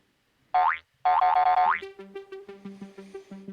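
Two springy boing sounds ring out with rising wobbly pitch, then a bouncy run of short plucked notes fades away in rhythm.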